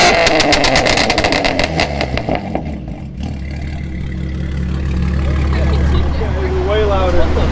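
A tuned 700-wheel-horsepower BMW M3 CS G80 with catless downpipes revs hard with rapid crackling bursts, then settles into a deep, loud idle rumble while people talk nearby.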